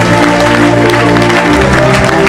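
A church congregation applauding and cheering after a call to acclaim Jesus Christ, a loud, dense wash of clapping over sustained organ or keyboard tones, with a voice in the mix.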